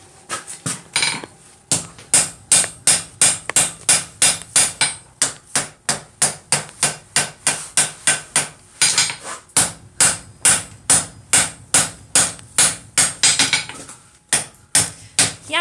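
Hot steel struck with a hammer on an anvil during a vise forging demo in a drafty shop, a long run of loud, evenly spaced ringing blows with a few short pauses, no talk.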